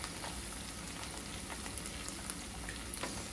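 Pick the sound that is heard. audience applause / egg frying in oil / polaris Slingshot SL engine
egg frying in oil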